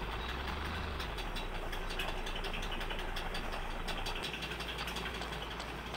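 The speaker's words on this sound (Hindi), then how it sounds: "बाइक को पार्क करता हूँ," A motorbike engine idles in the Rope Hero Mafia City War video game, a steady, dense mechanical rumble with a faint rhythmic knock, continuous and even throughout with no speech.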